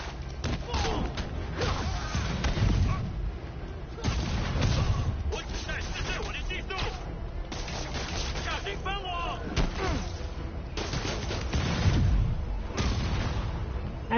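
Heavy booming explosions from a grenade in the Spider-Man PS4 video game, several loud thumping blasts spaced through the clip amid game noise, with a voice talking over them.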